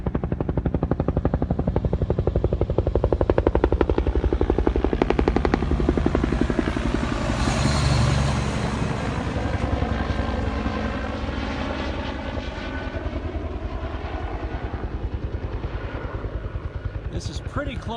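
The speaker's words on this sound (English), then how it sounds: "Comes the chopper again." A firefighting helicopter passes overhead during a wildfire near Nuevo, California. Its rotor and engine roar stay loud and steady throughout, swelling at the closest point and then slowly fading.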